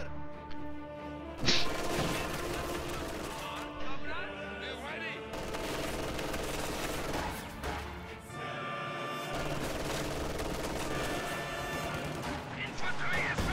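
Machine gun bursts and other gunfire in a WWII strategy video game battle, with a steady rattle of shots and booms running through a busy mix of combat sounds.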